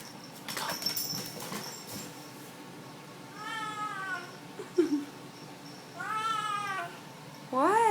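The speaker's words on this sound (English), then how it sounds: "So he's pretty much meowing every time he does this." A house cat meows repeatedly while returning its ball during play, three or four drawn-out, wavering meows spaced a second or two apart, close by, with light thumps and rustling between them.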